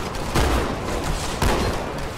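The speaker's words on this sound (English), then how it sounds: "and then I'm gonna use the shotgun" Two heavy shotgun blasts from Halo 2 boom out about a second apart, each a loud broadband burst with a short decaying tail over steady game background noise.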